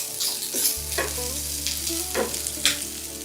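Ginger and chillies frying in oil on low heat, a few quick stirring scrapes over a gentle sizzle and a steady low hum, close and short.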